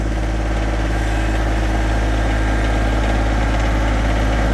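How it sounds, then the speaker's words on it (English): Tractor engine running steadily and close, a loud, constant low rumble with vibration, holding a heavy idle-like drone throughout with no voices. "Go ahead, rev it up, and then go ahead and take off."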